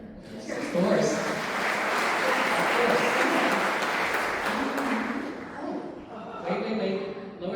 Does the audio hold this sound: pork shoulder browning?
no